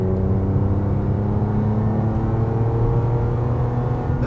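A modified B8 Audi S4 pulls hard from freeway speed, a steady close engine drone and whirring rumble building throughout with no talking.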